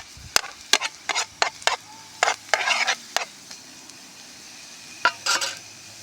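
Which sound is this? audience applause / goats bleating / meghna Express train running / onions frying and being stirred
onions frying and being stirred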